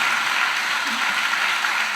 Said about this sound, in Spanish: Un aplauso fuerte a nuestro Dios.